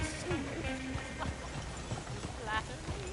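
Horses pulling a coach in Red Dead Redemption 2 clop along in an even trotting rhythm, fairly faint beneath people talking.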